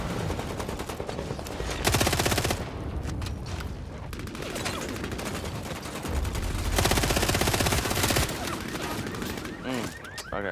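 Dense bursts of automatic gunfire in the video game Bloodhunt crackle in overlapping volleys and rapid fusillades throughout, loud and close, with a player talking now and then.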